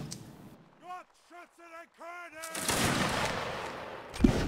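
In a Napoleonic line battle video game, a voice calls out a short order, then a ragged musket volley erupts with a dense crackle of overlapping shots that keeps rumbling on.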